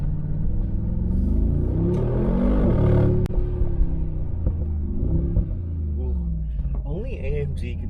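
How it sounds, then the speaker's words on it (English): Deep engine rumble with rising and falling revs from a new Mercedes-Benz G63 AMG G-Wagon exhaust, a sharp pop partway through, loud and close throughout. "Let's hear this exhaust."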